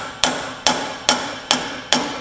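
Five evenly spaced, sharp metallic hammer blows on a driver, squaring an axle part during an 80 Series Land Cruiser axle rebuild for a 1986 Toyota 4Runner solid axle swap, loud and close with short ringing decay.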